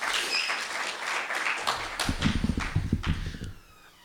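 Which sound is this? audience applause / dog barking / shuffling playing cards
audience applause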